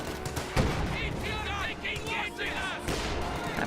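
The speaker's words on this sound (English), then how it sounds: "heavy mortar support as well" Heavy mortar fire in the real-time strategy game Company of Heroes, with a few muffled booms and bursts of battle noise sitting under a commentator's steady talk.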